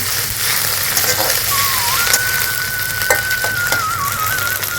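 Ginger paste and onion sizzle steadily while frying in a pan, a continuous close hiss with occasional light scrapes and a faint whistling tone in the background.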